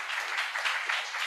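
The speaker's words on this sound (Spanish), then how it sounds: "Dame un aplauso" A crowd at a talk on human-computer interaction applauds, producing a dense, steady patter of many hands clapping at moderate volume for the whole short stretch.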